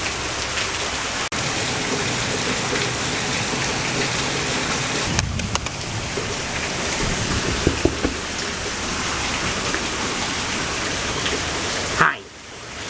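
Steady, dense rain pours down just beyond a back porch, a loud continuous hiss of drops on surfaces that fills the whole stretch, with a few faint knocks and a brief shift near the end.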